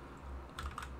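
Someone types a command on a computer keyboard while working in Rhino software, with a quick burst of several soft close key clicks after a brief pause.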